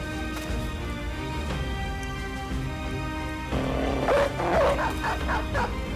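A dog in the video game Battle Brothers gives a series of loud, close barks and yips over a steady game soundtrack, getting busier toward the end.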